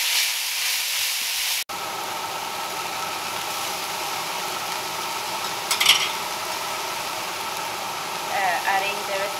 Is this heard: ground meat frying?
yes